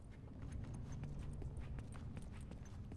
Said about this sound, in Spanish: Oigo pasos, tío.